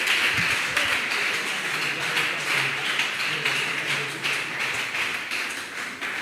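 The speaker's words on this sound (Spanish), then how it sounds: "Denle ese aplauso al Señor en esta hora." A church congregation claps together in a dense, sustained burst of applause that fills the room and continues steadily throughout.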